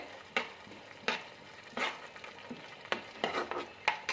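Masala for a hotel-style Kabul chana chickpea curry fries in oil with a soft, faint sizzle. It is broken by a regular series of scraping stirs from a spoon against the pan.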